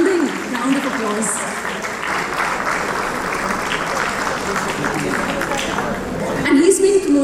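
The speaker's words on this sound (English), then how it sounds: "I will not move forward till the time you give me that resounding round of applause" Steady applause from a panel audience fills the whole stretch, a dense, continuous clatter of clapping with a voice briefly audible near the start and end.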